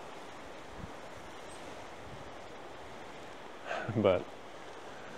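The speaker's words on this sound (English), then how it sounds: "quite the wind now. it's obviously pretty difficult to cast" Strong wind blowing over a tiny creek during autumn fly fishing for wild trout, a steady broadband roar of gusts and microphone buffeting throughout, with a brief spoken word near the end.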